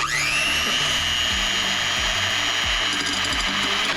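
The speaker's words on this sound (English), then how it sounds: "we will add the 3 egg whites in a bowl using this handheld mixer" A handheld electric mixer beating three egg whites in a bowl, a loud steady high motor whine starting abruptly, with rattling of the beaters against the bowl underneath, close and continuous.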